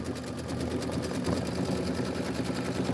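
A home embroidery sewing machine stitches a surfboard fill design, a steady close mechanical whir with rapid even needle rhythm, fairly quiet and uninterrupted.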